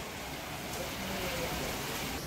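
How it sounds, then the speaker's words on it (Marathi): Heavy rain falling outdoors on a farm, a steady dense hiss of downpour that stays even and fairly loud throughout, with no voices. "माय बघा किती काही जोरात पाऊस आले."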